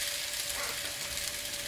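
Chopped onions fry in a pan for a potato, cheese and onion paratha filling, giving a steady, even sizzle with a faint hum underneath and no talking.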